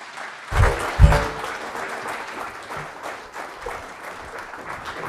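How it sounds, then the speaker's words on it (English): An audience at an evening lecture on solar system exploration applauds a guest speaker, with a few loud claps up front followed by sustained, softer clapping. "Can we please get a big round of applause for our guest speaker"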